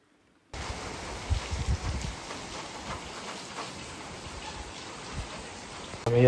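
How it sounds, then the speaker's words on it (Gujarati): Heavy rain pours down outdoors in a dense, steady hiss that holds at an even level throughout, with a few louder splashes early on. "જો આવ્યો છે ને ખતરનાક વરસાદ આવ્યો"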